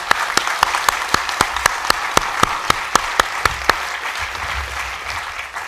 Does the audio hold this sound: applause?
yes